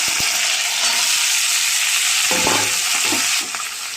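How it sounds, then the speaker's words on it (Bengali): Okra and potato pieces going into hot oil in a home kitchen pan, with a steady loud sizzle of frying and a few clunks of stirring. "ভেন্ডি আলুটা দিয়ে দেবো।"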